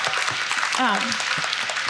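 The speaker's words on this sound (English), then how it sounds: "Huge, huge round of applause for her." Brief burst of audience applause at a talk on Asian women thriving at work, a soft patter of many hands in a room with a voice cutting through midway.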